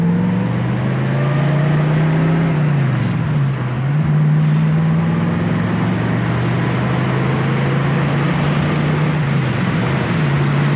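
A 1966 Ford Mustang engine revs steadily and loud and close, its drone rising and falling as it climbs back up from first gear, with a brief dip around the three-second shift.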